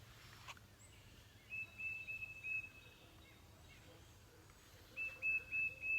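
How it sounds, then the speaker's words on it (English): Birds whistle and chirp outdoors in short repeated bursts, faint and somewhat distant over low background rumble, with two clusters of calls separated by a quieter stretch. "Listening to the bird sounds."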